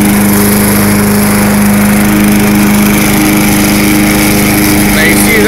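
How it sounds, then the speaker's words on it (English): An old MTD Lawn Chief lawnmower engine, run on fuel treated with injector cleaner, drones loudly and close with a constant buzzing hum and a steady low throb. "And run your lawnmower."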